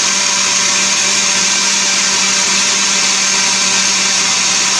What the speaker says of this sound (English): This blender, it turns and turns and turns.